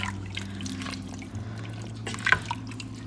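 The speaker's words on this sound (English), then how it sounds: "So I've poured about half a pot of the water" Water is poured into a pot of mutton curry, giving faint splashing and a few drips and gurgles over a low steady background hum.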